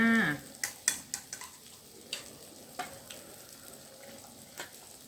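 Shrimp and chicken boiling over strong heat on a Thai grill-style cookout, giving faint scattered pops and clicks with soft sputtering between them, after a brief sharper sound at the start.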